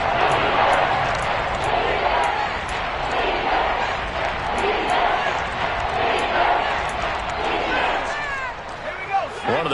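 American football stadium crowd roars loudly and continuously ahead of a big third down, with whistles and shouts rising out of the din and commentary over it.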